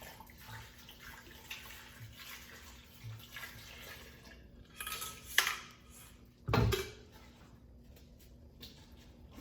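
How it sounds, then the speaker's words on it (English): Water runs into a cooking pot holding potatoes, a mid-level pouring rush with clinks of the pot against metal and a sharp clatter partway through, no voices. "so I will add water"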